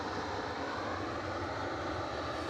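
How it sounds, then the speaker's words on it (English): A Jet2 airliner taxiing out to line up at Edinburgh Airport, heard as a constant, even engine drone from a distance, with no talking. "So there's jet2.com inching out to line up"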